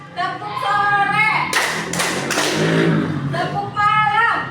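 A school group performs a clapping chant, with voices chanting and calling between bursts of loud, quick hand claps in a dense cluster mid-way through.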